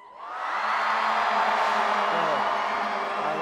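A crowd at a church sermon cheering, whooping and shouting in excitement, a swelling mass of voices that stays loud and rowdy throughout.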